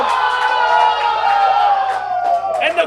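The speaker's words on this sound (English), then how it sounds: "And the crowd is going absolutely nuts." Crowd cheering in a baseball video game during a World Series game: a loud, sustained roar with a broad, swelling crowd noise and tonal stadium sound running throughout.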